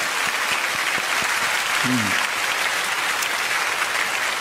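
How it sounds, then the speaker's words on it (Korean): A church congregation at an early-morning revival service claps to bless young children seated in the choir loft. Loud, sustained applause fills the room evenly, with a brief murmur of voices near the middle. "진짜 한 번 더 박수로 좀 축복하고 싶습니다"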